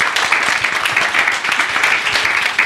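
An audience at a lecture on pilots' quality of life claps for a speaker, dense sustained applause at close range with steady intensity, no talk over it.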